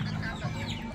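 Chickens cluck softly in a backyard coop, a brief low burst of clucking with a faint voice mixed in.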